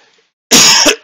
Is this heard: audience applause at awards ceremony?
no